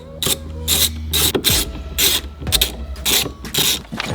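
A hand ratchet clicks in quick repeated bursts while loosening 10 mm bolts on a Subaru WRX during a shifter install, about eight close, sharp ratcheting strokes with short pauses between them.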